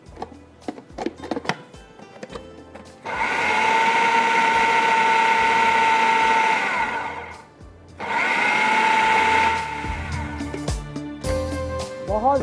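A Super Asia electric chopper whirs loudly in two sustained bursts as it mixes samosa stuffing, with a short pause between runs and kitchen clatter around them.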